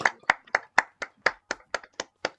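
Applause on a Zoom call during a village carol session: about ten distinct, evenly spaced claps from a single pair of hands, close and clear, with no talking.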